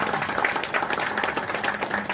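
An audience claps steadily and densely for a couple of seconds, welcoming a union branch secretary onto the stage at a mine safety-week function.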